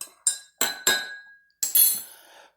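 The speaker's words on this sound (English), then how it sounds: "Let's give our coffee a stir here." Spoon clinking against a cup while stirring coffee, cooked on a Sterno stove: a few sharp, close metallic chinks spaced irregularly, then a longer rattling clink, in otherwise quiet surroundings.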